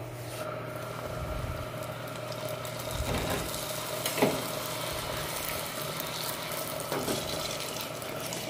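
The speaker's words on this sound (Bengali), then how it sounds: "এটা কি করতে হবে, আস্তে আস্তে জালে মসমসে করে ভাজতে হবে" Cut pieces of roti fry slowly in hot oil, giving a steady close sizzle and crackle with a few brief louder pops, no talking.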